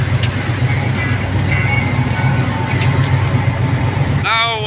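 Train 804213 sets off from Queenstown toward East London, South Africa, with a steady low engine rumble and rolling noise throughout, plus a brief squeal at the very end.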